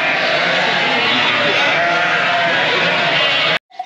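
Sheep bleat on a farm where they have been fed from a sack. A loud, dense, continuous mass of bleating fills the scene and then cuts off abruptly near the end.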